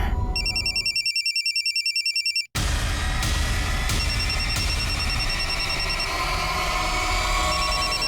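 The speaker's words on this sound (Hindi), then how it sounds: "रुक मैं फोन लगा के देखता हूँ।" A telephone rings with rapid electronic bell bursts for about two seconds, then cuts off into a brief silence followed by steady background noise.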